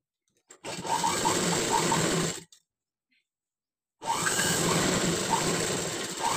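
A sewing machine stitches patchwork in two steady, continuous runs of motor whirr and needle clatter, the first about two seconds long, then a pause of silence, then a second run of similar loudness.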